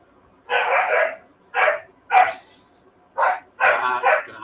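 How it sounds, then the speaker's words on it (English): A pet dog barks in a room during a casual gamers' hangout, giving five bursts of loud, close barking separated by short pauses, with no talking over it. "And you hear our dog."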